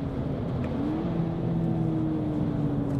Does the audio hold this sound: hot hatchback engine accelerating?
yes